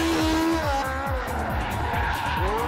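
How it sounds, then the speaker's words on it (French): Loud, close tire squeal and skidding from a car drifting at full speed at a Tuning Athens drift show, with a revving engine pulsing underneath in a brief continuous burst. "Faire des dérapages à pleine vitesse a l'air simple"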